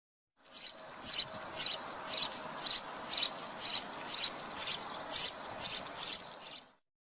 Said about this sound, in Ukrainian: Горобець.